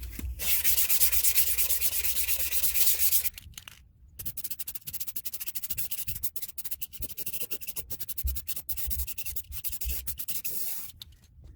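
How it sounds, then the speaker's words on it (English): Steady, rasping sanding strokes rub back and forth on a metal plate for several seconds, close and continuous, with a brief pause before resuming in shorter, rhythmic passes. "I'm just gonna give it a little bit of sanding before I spray paint"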